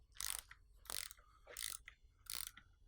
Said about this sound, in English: Using a torque wrench, we're going to tighten the ACS3 foot nut